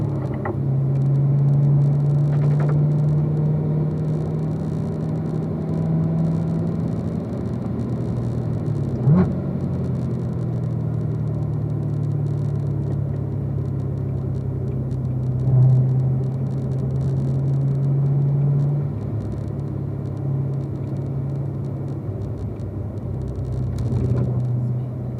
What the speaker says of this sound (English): We're up into fourth gear now.